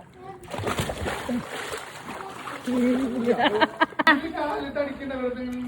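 Water splashes in a swimming pool as children play, bursts of splashing and slapping water mixed with lively kids' voices and shouting throughout.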